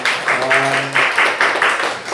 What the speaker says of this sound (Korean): 환영의 박수 한번 해주시기 바랍니다